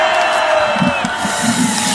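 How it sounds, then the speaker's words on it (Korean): Outdoor crowd at a political rally in Gwanghwamun, Seoul, raising a cheer for a speaker, a steady wash of voices and shouts at moderate loudness with a sustained tone running through it. "뜨거운 함성을 보내주시기 바랍니다"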